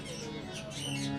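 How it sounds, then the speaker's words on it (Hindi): Parrot squawking close by in an indoor religious discourse hall, a steady raspy bird call running through the whole short stretch at moderate level. "आवाज आ रही है तोते की?"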